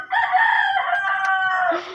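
A chicken in the video game Minecraft gives a short, drawn-out squawking cluck lasting about two seconds, clear and alone, ending in a lower note.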